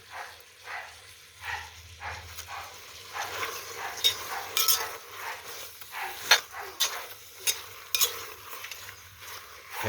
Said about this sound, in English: Now I need to stir this stuff.